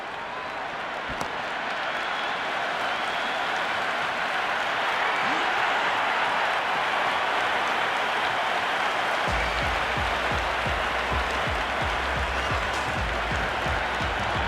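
In the Cricket 26 video game, with Pakistan playing Sri Lanka, a stadium crowd cheers after a wicket falls, a loud, sustained roar and clapping that swells and holds steady throughout.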